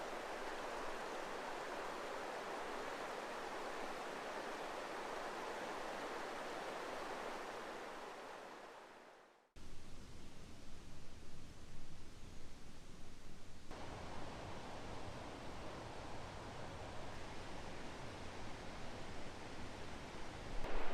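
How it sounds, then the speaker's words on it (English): Steady, broad rushing roar of a waterfall on Lake Superior's North Shore, heard from right above the falls, continuous and moderately loud, briefly breaking off and then resuming with a slightly different close-up hiss. "Here we are right above the falls"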